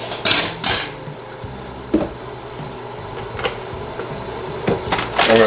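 A spoon scraping and clinking against a pizza stone while toppings are pushed around, with sharp metallic taps and knocks amid quieter scraping and kitchen clatter.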